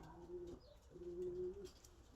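Pigeon or dove from a breeding pair cooing up close, two drawn-out low coos with a short pause between them, fairly quiet with faint background noise.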